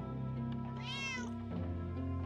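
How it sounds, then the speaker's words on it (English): A cat in the fantasy video game Drova Forsaken Kin lets out a single clear, drawn-out meow, close and distinct over a steady low ambient drone. "Hello, Mr. Kitty."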